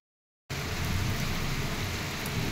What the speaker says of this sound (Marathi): हे बघा पाऊस चालू झाली जोराचा.